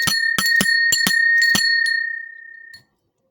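A ritual bell rung in a quick series of about eight bright metallic strikes with a sustained ringing tone, close and loud, fading out after the last stroke with no talk.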